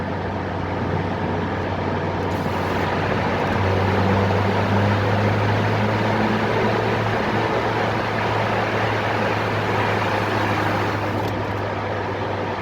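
A Peugeot 206 engine and exhaust drone steadily as the car climbs uphill and enters a tunnel, a loud, continuous low hum with a faint raspy exhaust note.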